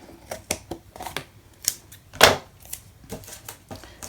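Paper for a Christmas mini album is trimmed with a run of close, irregular snips and clicks, with one sharper, louder cut in the middle.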